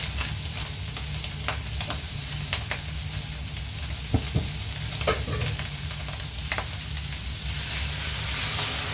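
Mung beans tip into a hot sauté pan of sizzling ampalaya and chicharon, giving a steady, close frying hiss with scattered light pops and stirring scrapes throughout.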